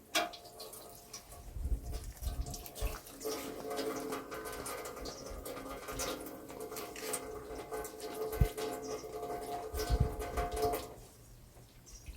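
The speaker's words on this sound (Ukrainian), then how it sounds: "Треба качати воду і нести, наливати." Water is hand-pumped and poured at a country dacha garden, with a steady rhythmic mechanical pumping and a continuous splashing flow over a noisy outdoor background.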